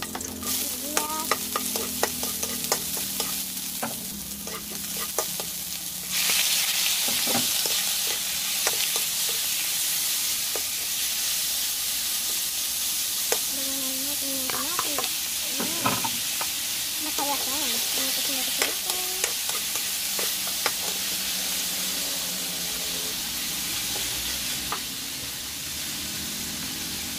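Garlic and onion sauté in a hot pan for a Filipino pinakbet with sweet potato, a steady loud sizzle that surges louder partway through, broken by scraping stir strokes and utensil clinks, with a few quiet voice murmurs.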